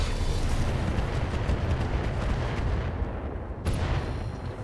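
Mech weapons in BattleTech RogueTech, aimed at a Warhammer, give a dense, continuous rumble of heavy booming fire with a brief lull near the end before the roar resumes.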